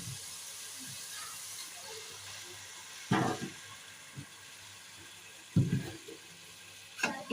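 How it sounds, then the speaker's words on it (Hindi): Chicken pieces fry with ginger and garlic in a pan for biryani after a spoonful or two of water is added, giving a soft steady hiss broken by three louder sputtering bursts of sizzle. "एक से 2 मिनट हम चिकन को फ्राई करेंगे। इसमें थोड़ा सा 1-2 चम्मच पानी डालेंगे।"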